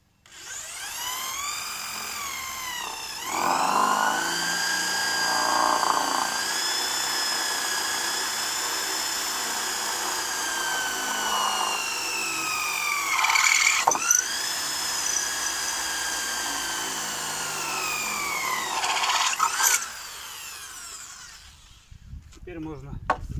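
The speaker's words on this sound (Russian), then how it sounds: "Вот теперь можно сверлить." A power drill bores into a wooden board for a homemade bench, a sustained whining drone that surges and eases over several stretches before cutting off.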